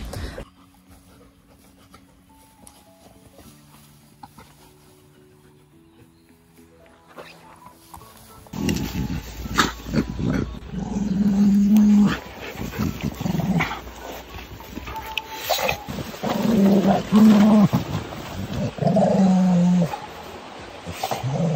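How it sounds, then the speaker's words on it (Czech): A dog bullying other dogs, growling and barking at them, heard after a quiet stretch as a burst of close, agitated canine noise with short whimpers and snarls, fairly loud and without talk. "Vrčí non-stop na ně, štěká na ně, non-stop."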